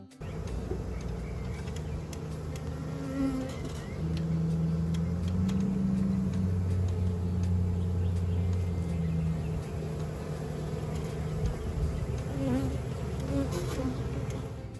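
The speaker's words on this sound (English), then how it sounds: "the bees will go out of their nuke box and march along all the way up into their new home" Honey bees buzz steadily as a colony moves from a nuc box up into a new hive, a dense, continuous drone close by with individual bees rising and falling in pitch above the swarm's hum, no talking.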